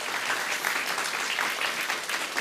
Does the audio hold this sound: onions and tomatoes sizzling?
no